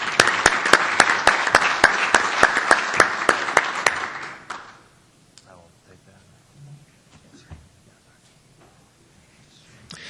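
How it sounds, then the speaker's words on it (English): An audience at a farm-business seminar on managing margins claps for a speaker in a burst of sharp, fairly close claps lasting about four seconds, then the room goes quiet with faint shuffling and murmurs. "Let's give Pat a round of applause."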